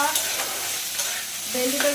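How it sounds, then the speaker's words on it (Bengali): Okra sizzles steadily in a frying pan with stirring scrapes, a close, continuous crackle throughout. "এখানে হচ্ছে ভেন্ডি ভাজা"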